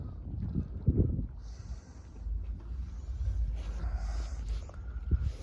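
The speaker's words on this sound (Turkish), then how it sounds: "Hafif bir esinti var." Light breeze at a sailboat marina, a soft, steady rumble of wind across the microphone with faint creaks and water sounds from the moored boats.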